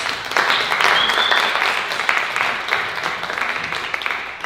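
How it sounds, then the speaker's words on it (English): Audience at a book event gives a round of applause for debut authors' first books, a dense, steady wash of clapping from a room full of people lasting throughout. "Let's get a round of applause for everyone's first books."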